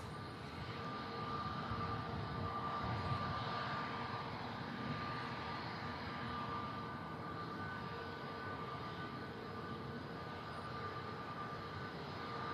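A Scandinavian airliner lining up for departure to Oslo at Manchester Airport gives a steady, distant engine rumble and whine that holds evenly throughout, with no talk.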